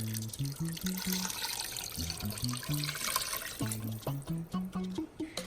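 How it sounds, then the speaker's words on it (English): Water pours steadily into a pressure cooker for chicken pot pie soup, a continuous splashing wash running throughout alongside a faint tonal background melody. "Up next, I'm gonna add 4 cups of water."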